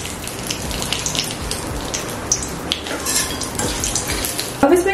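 Whole spices, cardamom and a cinnamon stick added to hot oil with dried chili, sizzle and crackle steadily and close, with a few clinks of a utensil against the pan.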